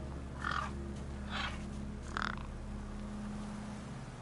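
Crows cawing over a corpse in the game Beyond a Steel Sky: three harsh caws spaced about a second apart, moderately loud over a steady low ambient hum.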